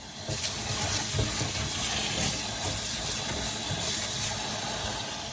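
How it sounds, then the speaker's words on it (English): Four cups of brown rice being rinsed with water, a steady broadband wash of running and swishing water that continues loud and unbroken throughout, with no voices. "here is our 4 cups of brown rice. And next up, we're gonna wash this."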